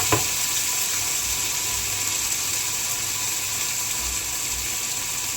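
Curry leaves, onion and tomato fry in hot oil with a steady, close sizzle and a faint spoon scrape near the start, crackling evenly throughout with no one talking.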